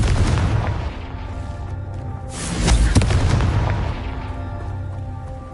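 Confringo explosion spell cast in Hogwarts Legacy on PS5, a loud fiery boom that swells and rumbles over several seconds beneath a dense, continuous wash of game noise.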